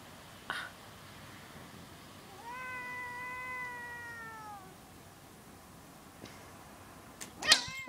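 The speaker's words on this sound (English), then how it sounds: "Swear this cat is intent on murdering me." A single drawn-out cat meow, clear and moderately close, in a quiet room with a couple of faint knocks and a rustle near the end.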